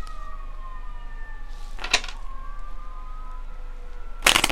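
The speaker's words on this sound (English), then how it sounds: "It was a loud siren." A police car siren wails as it passes outside, its rising and falling tone sweeping through the clip, with a loud burst near the middle and another at the end.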